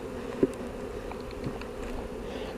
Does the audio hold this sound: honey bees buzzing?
yes